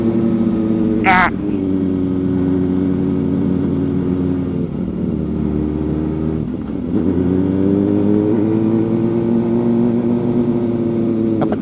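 A Kawasaki ZX-4RR motorcycle labours up a steep road in low gear near Angono, its engine droning steadily and close with pitch shifts as it strains, a brief dip midway, with a voice speaking over it.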